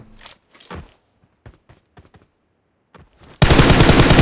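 A few faint taps and soft thuds, then a sudden loud burst of rapid automatic gunfire bursts in and fills the final second of a PUBG Mobile match.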